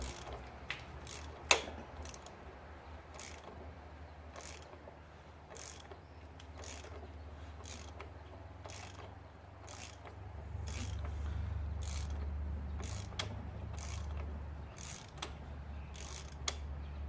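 A ratchet wrench loosens a 27mm fitting during an oil change on a 2012 Holden Cruze turbo diesel, sounding as a rapid series of quiet clicks in bursts, with one sharper knock early on.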